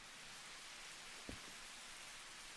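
Rain falls outside in a soft, even hiss that stays quiet and distant throughout, broken once by a brief low thump.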